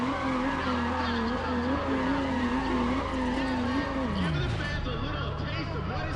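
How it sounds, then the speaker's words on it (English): Race cars and skidding tires in the Need for Speed ProStreet street-racing game, a steady engine drone with a sweeping pitch line that drops near the end, with talk over it. "I do love all these car sounds."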